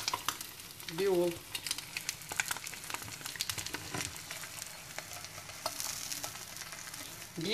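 An egg fries quietly in a cast iron pan with scattered crackles and a soft scraping stir, with a brief whine near the start.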